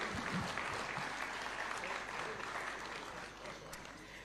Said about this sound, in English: A round of applause as they pick these awards kindly.